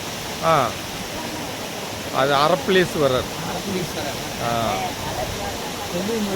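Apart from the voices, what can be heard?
Masila waterfall flowing, Kolli Hills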